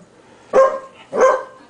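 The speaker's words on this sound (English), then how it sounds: "Go get it, Libby. Barry's the old dog." A dog playing with a toy lets out two sharp, close barks about half a second apart, loud against a quiet room.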